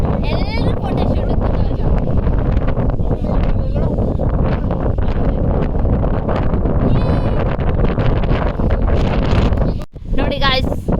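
Strong wind on a hilltop at Mallapkonda roars in a constant buffeting rush close against the microphone, with faint voices now and then beneath it.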